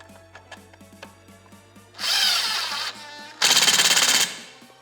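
Impact driver with a number 3 Phillips tip fastening a screw on a Minn Kota Ultrex trolling motor mount, two loud buzzing bursts of about one and three quarter and one second, the second with a rattling hammering pulse, near and alone.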